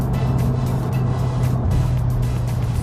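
A tuned 300 whp Mazdaspeed 6 drones from inside the cabin, a low steady engine hum whose pitch steps down partway through as it downshifts off the freeway, with no talk.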